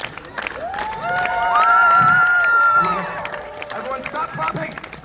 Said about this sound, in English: Everyone, stop clapping.